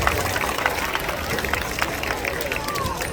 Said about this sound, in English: How about a big round of applause for Moby?